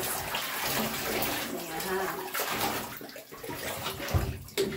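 Water runs into a bathtub while a dog is soaked before lathering, a steady close splashing flow that shifts as it hits fur, with someone talking briefly over it.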